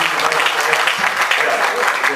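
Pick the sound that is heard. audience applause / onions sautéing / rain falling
audience applause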